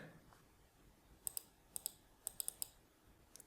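Several crisp computer mouse clicks sound close and quiet during partition recovery work on a PC. They come in small pairs and clusters against faint background hiss, with no talking.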